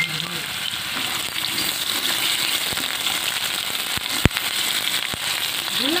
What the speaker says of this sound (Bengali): এবার দিয়ে দিচ্ছি আগে থেকে কেটে রাখা বড় একটা আলু, ছোট ছোট টুকরো করে কেটে রেখেছিলাম।